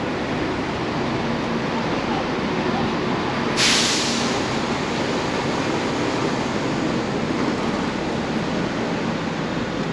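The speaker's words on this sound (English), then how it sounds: "now we are on the Gatwick train, which is going from Reading to Gatwick." Steady broadband rumble and rush from inside an older-stock Gatwick-bound train running from Reading, continuous throughout with a brief hiss burst partway, no talking.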